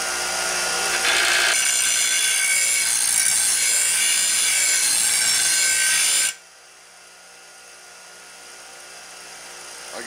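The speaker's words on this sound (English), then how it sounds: "so turn the grinder on here" A grinder runs loudly in a shop for about six seconds, a steady harsh whine with gritty grinding texture, then cuts off abruptly leaving quiet room tone.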